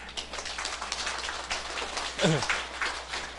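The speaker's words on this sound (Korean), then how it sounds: "뭐 박수 한번 치고 합시다, 우리." An audience at a lecture claps together, a steady patter of hands, with a brief voice rising over the applause partway through.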